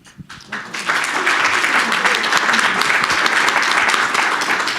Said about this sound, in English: the applause was from all the Canadians in the room